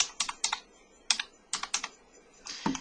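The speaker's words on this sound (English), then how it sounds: "let's type in the hostess of Tani's party" Typing on a computer keyboard while entering a party hostess's name into an order form: quick, soft key clicks in short clusters with brief pauses, close and fairly quiet, no voices.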